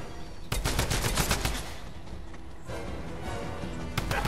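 Rapid bursts of video-game gunfire rattle at the player, with dense automatic volleys starting sharply after half a second, then continuing more unevenly with a fresh burst near the end.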